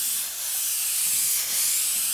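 An Iwata Eclipse airbrush with a 0.35 tip sprays paint in a steady, close, airy hiss that holds at an even level without pause.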